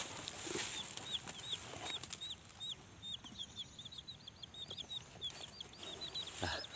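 Live chickens in a rural Thai village during rice harvesting cluck and chirp in a steady scatter of short calls over a noisy outdoor background, fairly distant and faint, with no one talking.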